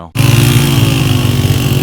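A motorcycle engine runs on a rough mountain hiking track in the Bashu valley near Skardu. After a brief lull it gives a loud, close, steady rumble with a throbbing low drone and no voices.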